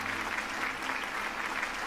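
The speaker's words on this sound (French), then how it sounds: "sous les acclamations de la foule" A crowd cheers and claps at the liberation of Blois, a continuous, fairly distant roar of applause and voices with an even, unbroken texture throughout.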